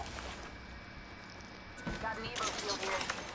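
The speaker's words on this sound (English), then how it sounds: "Bomb bots are shooting at me!" Bomb bots opening fire in the Apex Legends battle royale game, with a rapid burst of gunfire rattling out in the latter half over steady game ambience, while a voice speaks over it.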